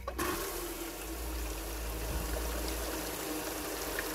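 Water rushing from a single 1100 gallon pump through a 6-inch Gold Rat highbanker sluice, a steady continuous gush and trickle, loud and close throughout with no talking.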